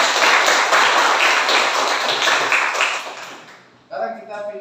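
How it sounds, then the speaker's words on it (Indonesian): Classroom of students clapping hands together for a presenting group, a dense burst of claps for about four seconds that fades out, then a voice speaks briefly afterward. "Ya, tepuk tangan buat."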